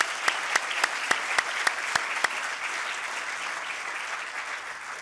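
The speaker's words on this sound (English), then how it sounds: "let's give them a round of applause for everything they've done to make this happen" A group claps for a few seconds at a graduation ceremony, with sharp individual claps at first that thin out into a softer fading patter.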